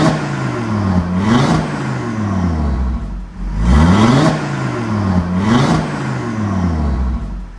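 An Audi RS3 8Y with an ECU tune revs hard on a roller dyno, climbing and falling in three loud sweeping pulls with short dips between them and no talk.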